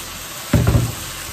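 Carrots dropped into a hot pan of frying chicken and broccoli set off a sudden loud sizzle that swells for a moment and then settles back into a steady low frying hiss.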